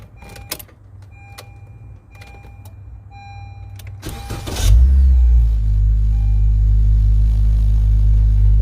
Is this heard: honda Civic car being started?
yes